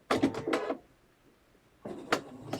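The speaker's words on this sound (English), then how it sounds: "So we'll flip over to the sewing machine again, and I'll stitch that once more for you." Sewing machine stitching a quilt block seam on nine-patch blocks cut from jelly roll strips, heard up close as two short bursts of rapid stitching separated by a quiet pause.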